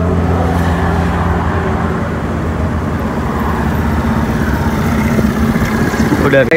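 Motorcycle engine running steadily and loudly throughout on a cold day in Khanpur, with a continuous low rumble and road noise, and a voice speaking over it near the end.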